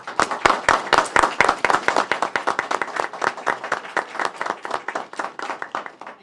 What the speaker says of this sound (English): if you could please join me in a round of applause for Jennifer Scully.